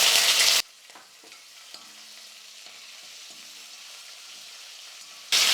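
Green chilies drop into a hot pan of lentils and peanuts frying in oil for Tamil poha (aval) upma. A loud sizzling burst opens and closes the stretch, with softer sizzling and faint stirring in between, no talking.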